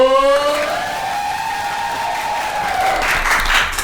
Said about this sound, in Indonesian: Please welcome tepuk tangan yang meriah buat Abubu.